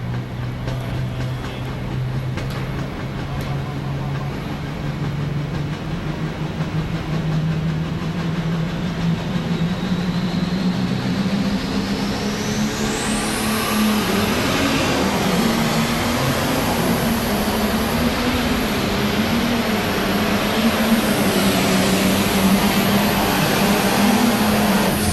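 Turbocharged pro stock pulling tractor making a run at a Louisville tractor pull, a loud, continuous engine roar that climbs in pitch with a rising turbo whine, sustained and close for the whole pass.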